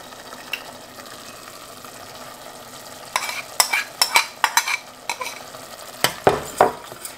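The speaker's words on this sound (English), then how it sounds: "Okay, I cooked this almost this ginger, garlic, onion paste 10 minutes. So now I'm going to add this tomato." Tomato stirred into ginger, garlic and onion paste frying in a pan for chana masala, a faint sizzle underneath sharp clinking scrapes of a utensil against the pan in quick clusters.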